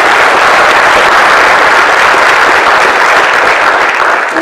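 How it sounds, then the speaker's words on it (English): A banquet-hall audience at a sports hall of fame ceremony breaks into sustained, loud applause. Dense clapping fills the room evenly for several seconds before it starts to thin slightly at the end. "Let's give Tim a big round of applause."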